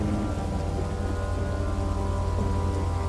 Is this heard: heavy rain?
yes